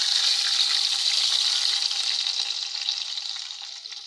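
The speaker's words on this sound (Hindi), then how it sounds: "बस तड़का लगाएं" Hot tadka sizzles loudly and steadily into a white chicken karahi, a dense bright frying hiss that holds for a few seconds before easing slightly at the end, with no voices.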